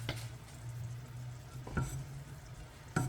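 A small spatula stirs thick peanut butter scraped from a tub, in a kitchen with a stove on. A low murmur of smearing is broken by two brief, distinct scrapes against the container, with no talking.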